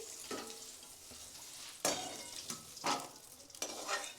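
Paneer and raisins fry in a hot kadai with a soft, steady sizzle, broken by several sharper scraping stirs, heard close but quiet during outdoor cooking in Vrindavan.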